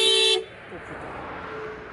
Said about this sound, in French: Benjamin, est-ce que tu peux nous faire une démonstration de klaxon?